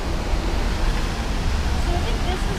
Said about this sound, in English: You get down right next to the waterfall.